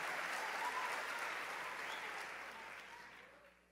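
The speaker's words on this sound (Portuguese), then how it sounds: "aplaude a Jesus bem forte e reage a essa palavra" Church congregation at a CCVideira service applauding in a dense, faint wash of clapping that holds steady and then fades out toward the end.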